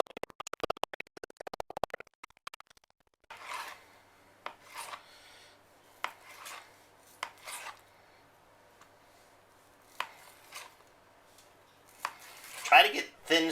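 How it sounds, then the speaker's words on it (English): A serrated knife saws through fresh mozzarella in short, rasping strokes, separate soft scrapes spaced a second or two apart and close by, with a louder burst of cutting near the end. "I'm going to use a serrated knife"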